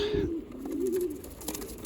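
Pigeons coo in a loft where young birds are being raised, a soft wavering low coo rising and falling across the moment, close by, with faint rustling and small background noises around it.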